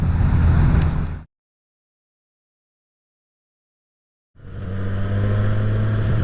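Four-cylinder engine of a Suzuki Katana motorcycle running in town, a steady mid-pitched drone with low harmonics that cuts out completely for about three seconds, then resumes at similar loudness.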